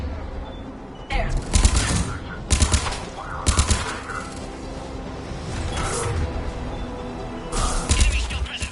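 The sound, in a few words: gunfire at checkpoint in video game Mass Effect 3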